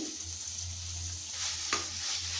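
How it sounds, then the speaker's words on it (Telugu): Spoon stirring spices into vegetable pulao in a frying pan, a constant close sizzle with a soft scrape and one sharp clink against the pan. "ఇవన్నీ వేసాక ఒకసారి ఇలా కలుపుకోవాలండి, లేదంటే అడుగొంటుతుంది."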